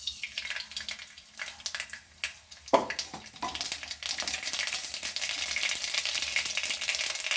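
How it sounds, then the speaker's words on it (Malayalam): Mustard seeds hit hot oil for a Kerala sadya-style pumpkin curry, starting with scattered pops and crackles, then building into a dense, steady sizzle that runs to the end; no one speaks. "എണ്ണ ചൂടായി വന്ന് നമുക്ക് കടുക് ഇട്ട് കൊടുക്കാം."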